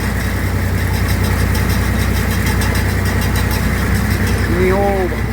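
Tractor engine labouring steadily in a low gear while pulling a loaded manure spreader on a farm, a continuous close rumble throughout with a brief voice near the end.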